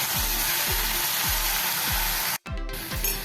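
Spinach sautéing in a pan over low to medium heat, a steady loud sizzle with regular low scraping strokes of stirring, a brief dropout near the end before the frying resumes; no talking.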